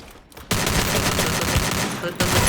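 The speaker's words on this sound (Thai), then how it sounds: "มันยิงไวไงเนี่ยกอกเกือบแตกเลย ยิงกันอยู่ด้านนยับ" Rapid automatic gunfire from an AK rifle in a shooter video game bursts in loud and dense, sustained for nearly two seconds before a brief dip and another burst.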